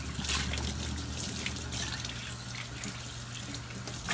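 Running tap water splashes steadily over a plastic blender lid being rinsed at a sink, a continuous close trickle and spatter lasting throughout with no talking.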